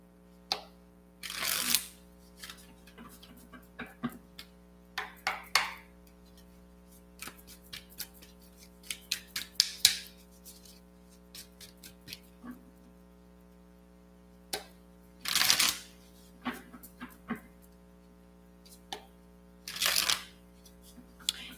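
Tarot cards shuffled in repeated bursts, crisp riffling and slapping clusters separated by quiet pauses, close and fairly loud against a low steady hum.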